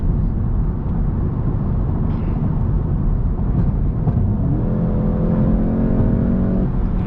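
A brand-new 2020 GTI drives along with a steady, loud engine drone and road rumble heard from inside the car, and a rising tonal whine appears toward the end.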